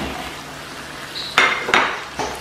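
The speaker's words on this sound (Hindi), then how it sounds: "अभी इसमें ऐड कर देंगे चिकन" Chicken pieces go into a cooking pan on Chicken 65, with a few close metallic clanks and a brief sizzling rush after each drop, over a quiet kitchen background.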